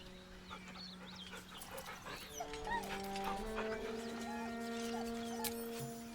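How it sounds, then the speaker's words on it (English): A dog whimpers nervously in the video game Baldur's Gate 3. The soft, wavering whines and yips are fairly faint and repeat over a steady bed of sustained ambient tones. "The dog whimpers nervously, as if to urge you on."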